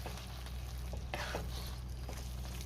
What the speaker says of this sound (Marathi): आता पुन्हा सगळं व्यवस्थित मिक्स करून घेऊया.